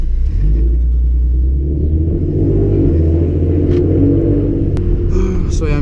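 Steady low engine rumble from a car being driven, its drone continuous and fairly loud throughout with a faint click and some light noise near the end.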